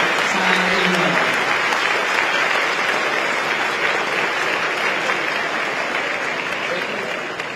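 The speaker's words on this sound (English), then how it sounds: "please give a warm round of applause to the President of the Republic of China, Her Excellency Tsai Ing-wen" Sustained, loud applause from a dinner audience welcoming Taiwan's President Tsai Ing-wen at the AmCham Taiwan 2024 banquet, dense steady clapping filling the hall for several seconds, with a brief voice near the start.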